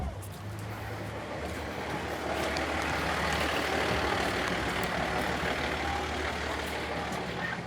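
A fire engine under way on an emergency call, with a steady low diesel rumble and broadband road noise that swells mid-clip; no siren stands out clearly.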